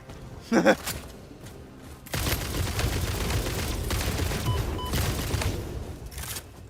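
Gunfire in Satisfactory: a sharp early shot, then after a pause a loud sustained burst of shooting and blasts that runs for several seconds before tapering off.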